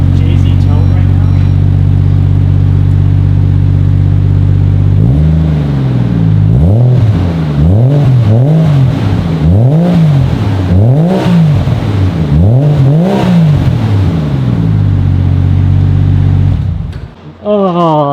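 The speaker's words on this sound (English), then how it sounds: "Just so you guys can hear what the exhaust sounds like currently, I'm gonna go ahead and start it, give you a couple little revs" A Toyota JZX100 Chaser with a Kakimoto exhaust idles loudly with a deep hum, then takes about six quick rhythmic revs that rise and fall before settling back, recorded up close.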